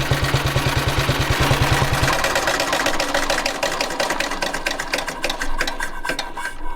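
A 1927 Sunbeam Model 90 motorcycle engine running with a fast, even mechanical beat, close and steady, its rhythm quickening as it revs.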